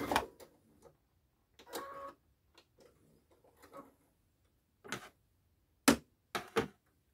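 A sewing machine with automatic thread cutting stitches organza in short, sparse bursts of ticking and clicking, close and quiet, with sharp snips near the end and silent gaps between.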